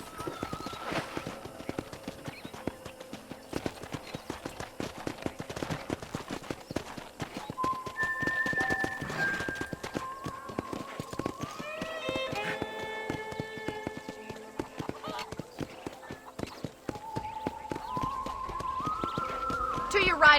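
Horse hooves clip-clop steadily on a ranch in the Red Dead Redemption video game, a continuous rhythmic trot under a voice talking, with a brief whinny and background game music.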